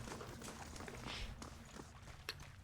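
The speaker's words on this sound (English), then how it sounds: "I hear footsteps." Footsteps in the Pillars of Eternity video game, a steady series of soft steps moving through a dungeon over a constant low ambient rumble, with a sharper click near the end.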